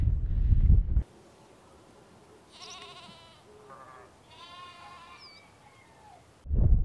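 Sheep and newborn twin lambs on open moorland bleat several times in wavering calls at moderate distance, between gusts of wind buffeting the microphone.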